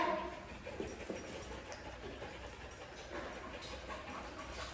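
A dog at a dog training session whimpers and pants softly, a faint, continuous breathy sound set against low background noise, with no talking.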